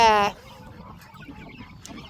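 A chicken gives a short, loud cluck at the start, followed by faint background rustling and scattered quiet sounds from a farmyard.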